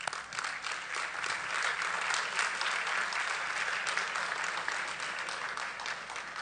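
An audience claps at a conference talk on Tijuana becoming a digital city, a sustained, dense round of applause that swells and holds steady throughout without speech.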